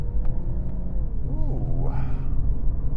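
A 2018 Infiniti Q50 3.0t Sport with a twin-turbo V6 being driven, its engine a steady low rumble with a brief rising surge of revs midway, heard from inside the cabin.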